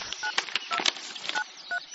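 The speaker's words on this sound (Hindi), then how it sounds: "मैंने तुरंत वो कागज ढूंढा और उस नंबर पर कॉल किया।" Touch-tone dialing of a telephone number: a quick, uneven run of about a dozen electronic beeps, close and clear, with no talking.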